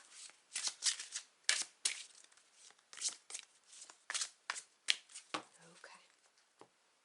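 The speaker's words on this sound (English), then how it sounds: "I'm going to continue shuffling because I'm going to get 2 messages from this deck" A deck of oracle cards shuffled by hand, crisp close riffling bursts and slaps in an irregular rhythm, with soft pauses between handfuls.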